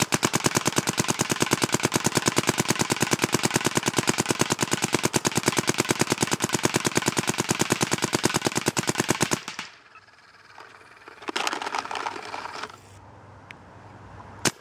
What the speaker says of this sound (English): So this is it shooting. This is 8 balls per second at 9 balls per second PSP.